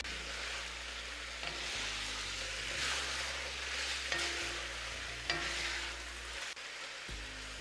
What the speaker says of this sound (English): start stirring to coat your beef with the perfumed ghee